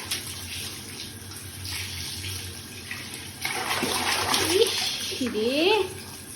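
Water from a tap runs into a bucket at night, a steady rushing flow that grows louder partway through, with a voice and other speech rising over it near the end.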